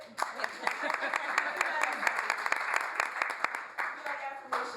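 Audience clapping at a United Nations World Day of Social Justice event on human trafficking, a dense steady patter of many hands with sharp individual claps standing out, thinning near the end, with murmured voices underneath.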